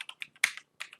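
Fingers tap quickly on a computer keyboard, a quiet run of crisp, uneven clicks with one slightly louder keystroke and short pauses between bursts.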